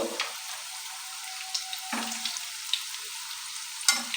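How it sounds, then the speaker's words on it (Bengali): Snack pieces frying in a pan as they are turned with a spoon, giving a steady soft sizzle with occasional crackles and light spoon taps, close and fairly quiet. "ভেজে নেব"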